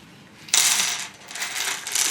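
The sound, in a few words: rummaging through a box of screws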